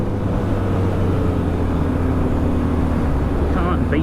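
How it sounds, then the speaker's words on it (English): A 2021 BMW R1250 GS Adventure motorcycle is ridden hard, pulling wheelies. A loud, steady engine drone mixes with rushing wind throughout. "I'm out on a brand new 1200 GS, doing friggin' wheelies."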